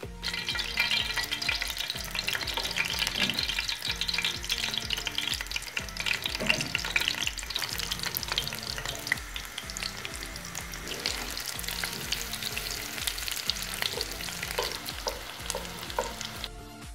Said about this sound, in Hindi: अब इन्हें तलना स्टार्ट करते हैं।